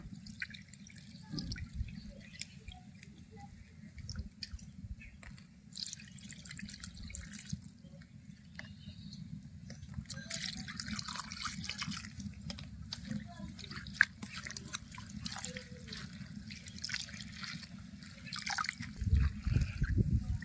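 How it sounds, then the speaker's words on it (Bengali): Coriander leaves are washed in water, with soft splashing, trickling and dripping at a low level, punctuated by a few louder sloshes and a low rumble near the end. "ধনে পাতা ধুয়ে নেব"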